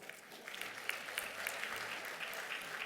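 An audience at an Emmy awards program applauds in a steady, moderately distant wash of clapping that carries on throughout without anyone talking over it.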